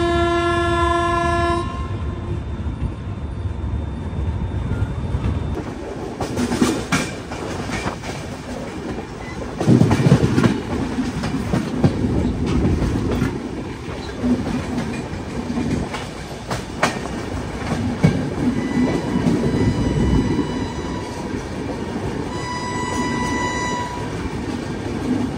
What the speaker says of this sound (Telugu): ఏదో ట్రైన్ వస్తుంది.